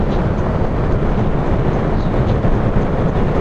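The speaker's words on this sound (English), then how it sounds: "there's some type of crosswind that is happening. It does kind of push me around a little bit" Crosswind buffeting on a naked motorcycle at highway speed, a dense, loud, unbroken rush of wind noise with low rumble, close and constant throughout.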